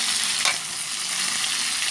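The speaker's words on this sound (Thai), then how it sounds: "คราวนี้ทอดปลาส้มครับ" Fermented fish fries in a pan with a steady, close, crackling sizzle that continues unbroken throughout, with no voices.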